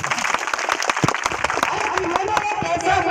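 An audience at a Hindi-language gathering claps hard in a quick, uneven patter for the parents of a man being honoured, with a voice over the clapping.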